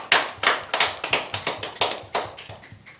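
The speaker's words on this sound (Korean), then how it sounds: "우리에게 은혜 주신 하나님께 영광의 박수 올려드리겠습니다" Korean church congregation applauding during a Sunday worship service, with a loose series of sharp, evenly spaced clap bursts, fairly close and moderately loud, with no talking.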